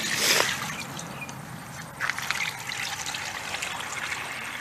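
About 27 litres of water trickling and gurgling down a drain, with a brief louder gush at the start and then a steady, moderately close flow that sloshes softly, no voices.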